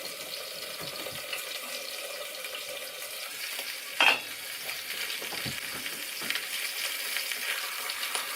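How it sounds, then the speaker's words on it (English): A thick steak searing in a pan at a rustic cooking setup, giving a soft, steady sizzle at moderate distance with a brief clink partway through. "Get this steak seared and get going."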